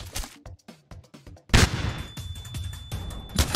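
Gunfire in the video game Counter-Strike 2, recreated in Minecraft: a string of sharp, rapid shots early on, then a loud blast followed by sustained rattling bursts and a final bang, close and loud.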